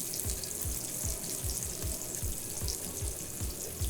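Food cooks in a hot pan with a rhythmic sizzle and regular soft pulses, about two per second, under a steady hiss, with no one talking.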